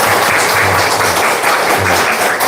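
Steady applause from a church congregation welcoming someone, a continuous wash of clapping hands at moderate loudness with no voices over it.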